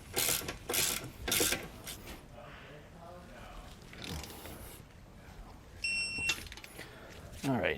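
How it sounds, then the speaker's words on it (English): A ratchet-type torque wrench clicks as it tightens leaf spring suspension bolts while a Roadmaster Comfort Ride system is installed on a 2022 Jayco Eagle RV. Close mechanical ratcheting comes in short bursts under and between talking. "once it starts getting real tight, we can switch over to our torque wrench"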